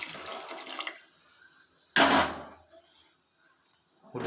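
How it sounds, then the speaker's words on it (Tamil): Water poured into a pan of cooking chickpeas, heard as two short splashing bursts with a quiet gap between them, close by. "அதோட தண்ணியை கொஞ்சம் லைட்டாக ஊற்றிக்கணும்."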